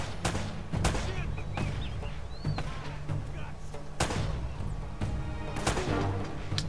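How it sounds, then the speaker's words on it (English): Grenade launcher and gunfire in Uncharted: Drake's Fortune, a string of sharp loud blasts and booms spaced irregularly through a combat scene, with someone talking over the shots. "there's like a freaking grenade launcher"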